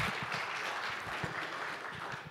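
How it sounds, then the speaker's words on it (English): An audience applauds on stage to welcome a speaker named Michael, a steady wash of clapping held at an even level for the whole stretch, with no voices over it. "applause Michael and welcome him"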